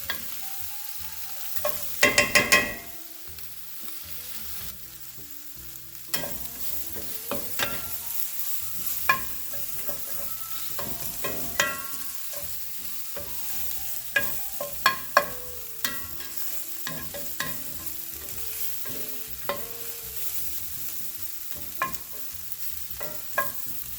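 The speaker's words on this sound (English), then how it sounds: "we're just going to let this cook until these onions are translucent" Onions frying in a pan for Mongolian chicken, a steady close sizzle broken by frequent sharp scrapes and clacks of a utensil stirring, with a louder burst of clatter near the start and no talking.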